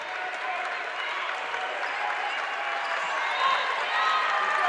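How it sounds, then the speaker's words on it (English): A crowd at a women's basketball championship game applauds a player after she takes a charge, steady dense clapping and cheering throughout with a slight swell near the end, a commentator's voice mixed underneath. "As you hear the crowd giving it up for Shearer."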